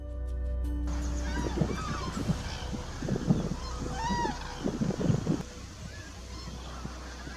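Wild geese honking in a loose, repeated series of calls, some overlapping, heard at moderate distance over a steady low background rumble.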